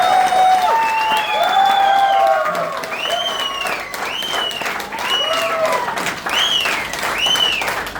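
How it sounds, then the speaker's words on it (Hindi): Audience applause at a training seminar, dense steady clapping across the whole stretch with cheers and whoops rising over it, loud and close. "तालियां, इतनी सी तालियां।"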